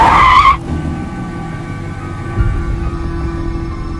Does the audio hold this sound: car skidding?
yes